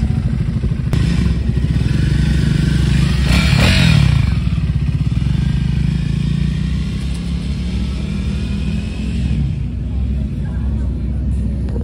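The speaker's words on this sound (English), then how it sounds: "I'm heading on my bike" Steady, loud engine rumble from a motorcycle being ridden, continuous throughout with wind noise and a voice briefly speaking over it.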